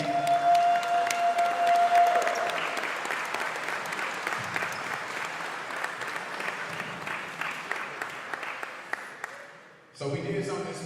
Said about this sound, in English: Y'all give a round of applause, please.